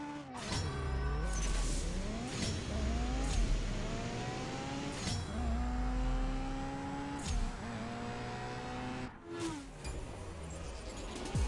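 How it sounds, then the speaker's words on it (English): Honda Varis car in the CSR2 racing game, engine revving through repeated rising gear sweeps with brief shift dips, loud and steady across the whole stretch with no talk. "Man, the takeoff on that car, it's dope."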